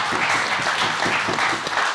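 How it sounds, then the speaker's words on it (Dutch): Audience applause for Lilian Marijnissen at a public discussion event on freedom, a steady dense round of clapping from a sizeable crowd, fairly close and continuous for the whole moment. "Ik zeg applausje voor Lilian."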